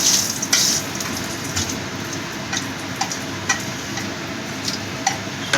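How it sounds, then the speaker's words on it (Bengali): Dry red chillies fry in hot oil for tempering a moong dal made with fish head, giving a steady close sizzle with scattered small crackles and ticks throughout. "শুকনো লঙ্কা ফোড়নে দিয়েছি।"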